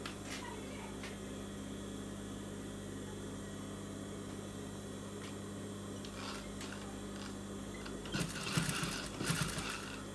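A sewing machine stitches piping onto a blouse, with a low, steady mechanical hum running throughout, then a few louder, busier bursts of stitching near the end.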